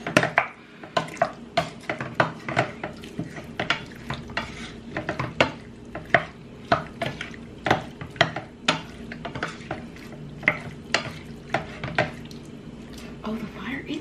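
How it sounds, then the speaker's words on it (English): A utensil scrapes and stirs food in a pan on the stove, a quick run of sharp irregular scratches over a soft steady sizzle, close and fairly quiet, with no one speaking. "Let's scratch the pan."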